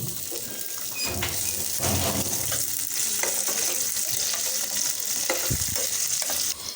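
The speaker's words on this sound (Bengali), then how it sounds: "দিয়ে দিচ্ছি সরিষা ফোড়ন, দিয়ে দিচ্ছি পেঁয়াজ, দিয়ে দিচ্ছি কাঁচামরিচ" Mustard seeds, onion and green chili frying in hot oil for a mixed greens and vegetable stir-fry, giving a steady loud sizzle with crackles and stirring scrapes throughout, no talking.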